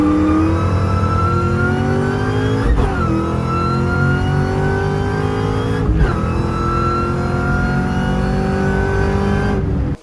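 A supercharged Ford Mustang SVT Cobra Terminator engine revving, a loud, close high-pitched supercharger whine rising and falling in repeated pulls with short breaks between revs.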